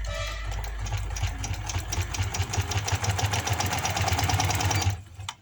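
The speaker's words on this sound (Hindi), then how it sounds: "अब हम इसे कन्नी की सिलाई लगाते हैं।" A sewing machine runs steadily, stitching the edge seam of capri trousers with a dense, rapid mechanical whir that holds for about five seconds, close and fairly loud, before stopping abruptly.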